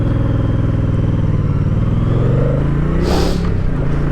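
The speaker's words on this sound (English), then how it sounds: "Taking off with the Guzzi here, the first thing you notice is what a delicious engine this is" A 2023 Moto Guzzi V100 Mandello motorcycle with a big 1000+ cc twin engine pulls away, its loud, throbbing exhaust rising steadily in pitch as it accelerates, with a brief hiss of wind near the end.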